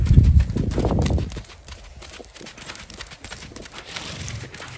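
Tennessee Walking Horse moving in a slow saddle gait during a riding lesson, hooves clopping in a quick rhythmic beat that is loud and close at first, then softer and more distant.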